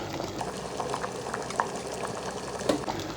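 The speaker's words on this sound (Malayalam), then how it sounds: "എല്ലാം കൂടി നന്നായി തിളച്ച് വരട്ട്" A pot of thick curry bubbles and burbles continuously nearby, with occasional louder pops rising from the boil.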